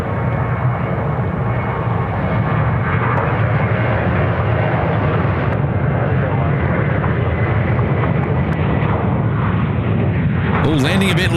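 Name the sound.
Boeing 737-800 airliner landing at Sydney Airport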